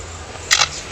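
A male lyrebird imitates a camera shutter: a single sharp mechanical click stands out briefly against a steady low background hiss.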